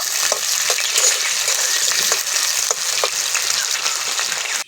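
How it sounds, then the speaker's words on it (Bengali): Bitter gourd fries in hot oil with a dense, loud, continuous crackling sizzle, close by, dotted with faint clicks from stirring, then cuts off abruptly at the end. "তেল গরম হয়ে গেছে উচ্ছে দিয়ে দিচ্ছি উচ্ছেটাকে লাল লাল করে ভেজে নেব"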